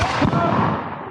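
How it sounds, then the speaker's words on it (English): A cannon firing at a Battle of Camden reenactment gives one close, loud boom that rolls off into a fading rumble. "We've got cannons on our side!"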